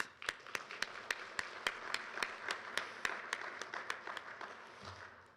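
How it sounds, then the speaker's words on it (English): A modest audience claps at a community meeting, a few sharp distinct claps standing out over a softer bed of applause that gently tapers off. "so please give them a round of applause"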